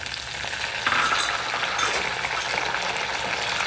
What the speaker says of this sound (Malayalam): ഇഞ്ചി വെളുത്തുള്ളി പച്ചമുളക് വേപ്പല കടുക് ഉലുവ ഇതിട്ട് വറുത്തെടുക്കും